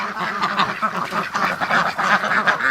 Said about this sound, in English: Oh, look at the ducks.